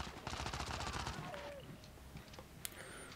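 Gunfire from a handheld shooter game on PS Vita, Call of Duty Black Ops Declassified: a dense burst of rapid shots for about a second, then sparse scattered reports and a sharp single crack, fairly loud with game ambience.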